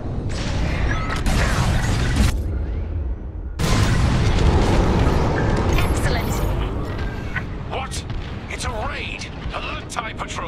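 Bombs explode in the Star Wars Squadrons video game. Loud, dense booming blasts and rumble fill the space, break off briefly, then swell again, and a voice speaks over the battle noise.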